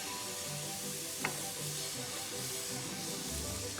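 Wheat-flour apam balik batter sizzling on a hot griddle over a medium gas flame, a faint steady hiss with a light tap near the start and no talking.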